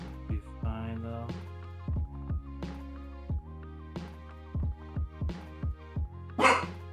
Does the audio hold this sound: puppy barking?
yes